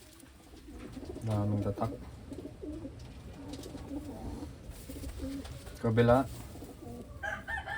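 Big Wantai pigeons from Taiwan give low, throaty coos in two short bursts, close by, while someone talks over them in Filipino.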